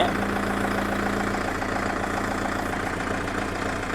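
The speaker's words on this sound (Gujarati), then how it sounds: "5મા ગિયરમાં નાખશું તો જો એકદમ ઇઝીલી ઉપડી જવાનું છે ટ્રેક્ટર" A Solis JP 975 tractor with a quiet engine runs in fifth high gear, a steady, even diesel drone with a low mechanical hum that stays close and constant throughout.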